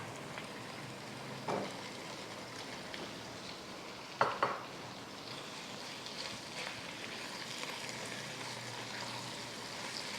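Chicken stir-fried in a pan with a low, steady sizzle throughout, broken by two brief scraping knocks of the spatula against the pan; quiet and close, with no talk.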